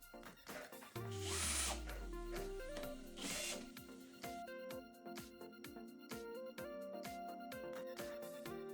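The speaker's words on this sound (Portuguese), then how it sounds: "Fixei o BMS com os parafusos de madeira na peça de compensar naval." Power drill driving wood screws through a BMS into marine plywood, whirring bursts that rise in pitch, with a few clicks and pauses between, close and alone.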